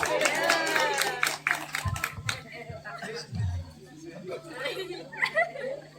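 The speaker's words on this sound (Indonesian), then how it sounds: "tepuk tangan untuk laki-laki" A group claps and chuckles amid lively chatter, the clapping brisk at first, then scattered bursts and laughter under continuing voices.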